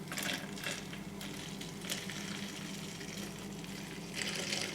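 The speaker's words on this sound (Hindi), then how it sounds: "इसमें आप डालेंगे बॉइलिंग वाटर, उबलता हुआ पानी" Boiling water poured into a bottle holding vegetable glycerin for homemade vanilla essence, a steady close hissing, splashing stream running throughout, with brief brighter gushes near the start and end.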